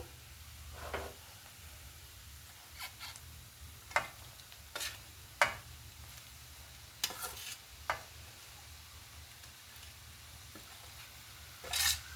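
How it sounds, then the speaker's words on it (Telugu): Spinach and amaranth leaves being stirred in a pan for a Telugu greens stir-fry, with a soft, steady sizzle under sparse, distinct scraping clicks of the spoon. "ఇప్పుడు ఆకుకూర వేసేసుకుందాం."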